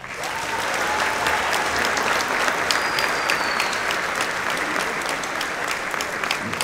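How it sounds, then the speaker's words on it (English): A banquet crowd gives the San Benito football team, Battle of the Arroyo champions, a round of applause: dense, steady clapping that holds at a fairly loud level throughout without fading. "I think they deserve a round of applause for that"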